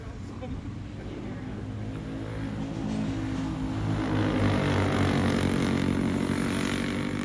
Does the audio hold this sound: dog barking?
no